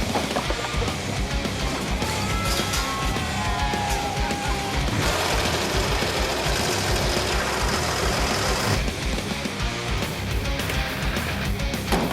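A wooden backyard deck is torn out during demolition, producing a continuous harsh clatter, scraping and crashing mixed with an engine-like mechanical drone for twelve seconds. There is no clear talk.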